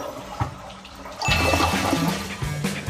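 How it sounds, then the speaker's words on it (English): Toilet flushing in a tiny house bathroom: a rushing, gurgling flush starts after a brief click and runs loudly to the end, close by. "The toilet flushes."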